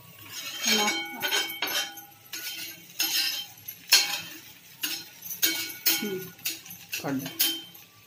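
Metal spoon clinks and scrapes against a cooking pot while karela bhaji (bitter gourd stir-fry) is finished on a home stove, a string of sharp bright taps and rattles in irregular bursts, close and fairly loud.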